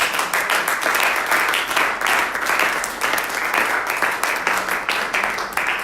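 A church congregation applauding during a French-language service, with loud, continuous clapping in rolling waves that persists for several seconds and has no pause.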